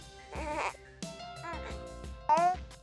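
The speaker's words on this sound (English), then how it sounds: "fussing," Recorded real-infant fussing from an electronic care baby doll, with several short, whiny, bleat-like cries that come in bursts and grow louder toward the end, heard up close.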